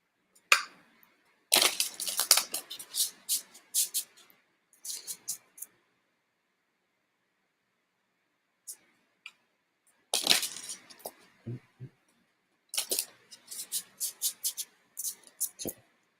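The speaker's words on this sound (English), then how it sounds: "I don't feel like I shuffled that enough." Tarot cards are shuffled by hand in quick bursts of crisp riffling and slapping, with silent gaps between the bursts.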